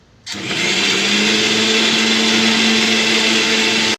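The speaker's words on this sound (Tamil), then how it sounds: "குழம்புக்கு தேவையான தேங்காய் அரைக்க போகிறேன்" A blender grinds coconut with water, running loud and steady for about four seconds, whirring with a constant grinding drone before it cuts off abruptly.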